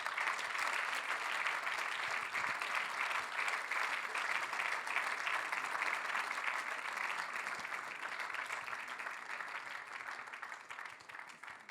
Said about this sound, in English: Je vais demander de leur accompagner en l'applaudissant, bien entendu.